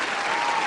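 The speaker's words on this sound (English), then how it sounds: "Round of applause." A short burst of applause, many hands clapping at once in a dense, steady patter.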